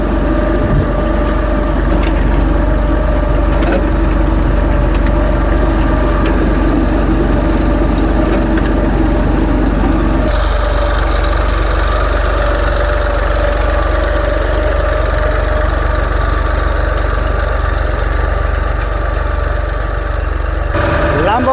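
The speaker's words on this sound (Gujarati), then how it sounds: "ટ્રેક્ટર એની મેળે હાલ્યા રાખે" A tractor engine runs steadily through the whole stretch during field sowing, a loud, continuous low rumble with a shift in tone partway through.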